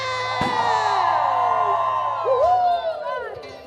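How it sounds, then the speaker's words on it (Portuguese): A crowd of women at a rally lets out a loud collective shout and whooping cheer, voices rising and sliding together up close, with a sharp knock near the start. "Cadê o grito das Margaridas?"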